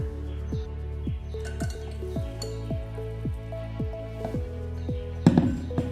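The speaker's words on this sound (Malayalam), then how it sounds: "ഇനി നമുക്കിതൊന്ന് അരിച്ചെടുക്കണം" Blended mango pulp is strained through a sieve, giving a steady run of soft, wet squelching drips at a regular rhythm, close by, with a brief louder knock near the end.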